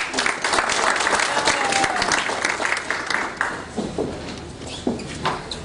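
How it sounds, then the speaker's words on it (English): Applause from a festival audience welcoming poet Gerry Cambridge, a dense clatter of many hands at close range that thins out toward the end. "Please give Gerry a big round of applause."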